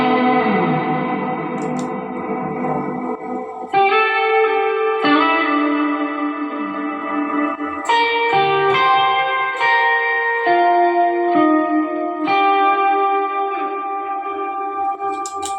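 An electric guitar played through a Tank G multi-effects unit with reverb, ringing chords and sustained notes trailing off into long echoing tails, several phrases in sequence with no talking.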